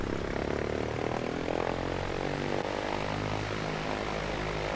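A Cessna 172 piston engine idles with a steady, loud propeller drone in the A2A flight simulator while the aircraft is parked off a taxiway, continuous with no voices.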